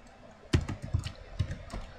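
Typing on a computer keyboard: a short burst of about half a dozen crisp key clicks at an uneven rhythm, close and fairly quiet, with no talking.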